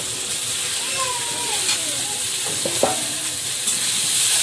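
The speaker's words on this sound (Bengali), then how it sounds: "এদিকে একদম লাল লাল ভাজা হয়েছে এবারে এর মধ্যে কাঁচা লঙ্কাটা দেব" Steady frying sizzle with a broad hiss throughout, a few stirring scrapes and faint voices in the background.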